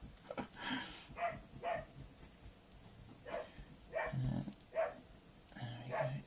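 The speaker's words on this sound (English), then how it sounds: "Sorry about that, it's just a blooming dog." A dog indoors gives a series of soft, muffled barks and whimpers, spaced irregularly across the stretch at moderate distance, with quiet room noise behind.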